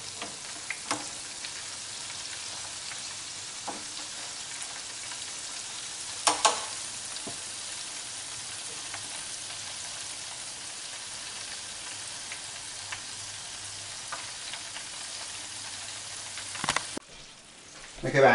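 Shrimp frying in a pan, a steady soft sizzle with crackling that runs throughout, with a few louder pops and stirring clatter near the middle and end.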